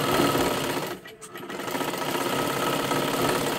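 A sewing machine stitching dress fabric runs in a fast, steady mechanical whir, close and loud, with a brief pause near the start before stitching resumes continuously.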